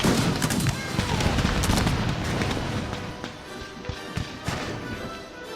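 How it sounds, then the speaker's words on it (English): In the Cossacks 3 video game, modded cannon and mortar fire produces a dense barrage of booming, crackling shots. Scattered sharp reports follow as the barrage thins out, and speech is faint underneath. "It's the cannons, of course, with sound mod. Oh, the mortar."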